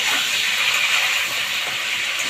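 Flat beans sizzle in a hot pan with turmeric and salt, a steady loud hiss of frying oil that holds at an even level throughout.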